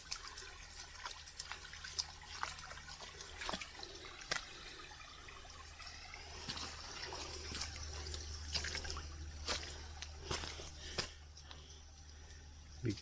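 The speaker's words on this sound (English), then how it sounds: "Little waterfalls." Water trickles and splashes steadily over small waterfalls in a little creek, a continuous babbling flow with scattered brighter splashes, fairly close.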